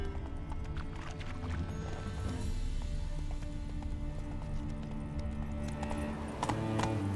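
Hooves of Roach, the horse in The Witcher 3, pound in a continuous gallop, close and fairly loud, layered over in-game music and ambience; no voices are heard.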